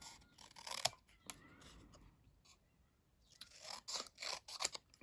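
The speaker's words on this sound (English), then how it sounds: "so then you're ready with your paper snips" Paper snips cut closely around printed words on cardstock, giving crisp, close snipping bursts at the start and again near the end, with quieter rustling of paper in between.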